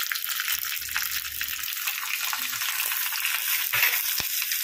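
Curry leaves dropped into hot oil for coconut chutney tempering, a loud, steady hissing crackle close up with a few sharp pops.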